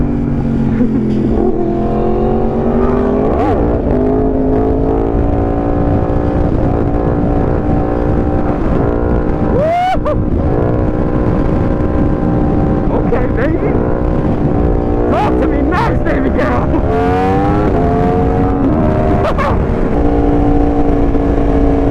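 Engine of a race car driven hard on a track, revving and accelerating through repeated shifts, loud and continuous with close roaring harmonics, while excited voices talk over it.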